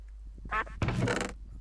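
A duck gives a couple of short, nasal quacks close by. The second quack is longer and harsher.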